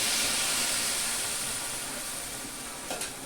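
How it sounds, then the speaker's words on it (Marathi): Water splashed onto besan (gram flour) coating capsicum in a hot pan makes a loud, steady steam hiss and sizzle that slowly fades, with a small clink near the end. "थोडं पीठ शिजण्यासाठी आपण पाण्याचा हापका मारणार आहोत"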